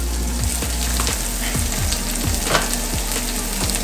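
Seasoning sizzling in hot oil while cooking Jamaican stew chicken, a close, steady crackling fry with a quick series of rhythmic scraping strokes from stirring, no voices.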